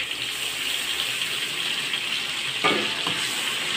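A ground paste of chili, garlic, shallot and belacan sizzles and crackles steadily in hot oil in a pan, loud and close, with a brief scrape or stir partway through.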